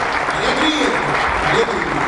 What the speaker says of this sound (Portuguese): Será que alguém pode salvar uma salva de palmas para Jesus?